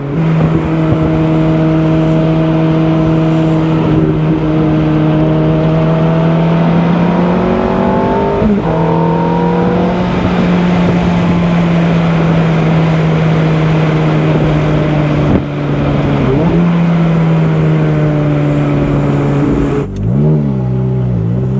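A 2005 Ferrari F430 Spider engine heard from inside while driving, a loud steady hum that climbs in pitch through the gears, with a few shifts and throttle changes and no talking.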